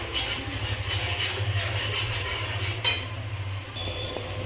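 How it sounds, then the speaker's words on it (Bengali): Chicken with black pepper powder and Kashmiri chilli powder is stirred in a pan for garlic chicken, with steady scraping and clinking of utensil on metal over a low background hum. "সবগুলোকে একসাথে নাড়াচাড়া করে নেব"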